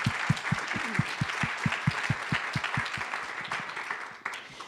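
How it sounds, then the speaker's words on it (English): A conference audience claps for the speakers: steady, fairly dense applause with a few distinct, rhythmic claps standing out up close, fading toward the end. "I really would like to give one more round of applause to our speakers"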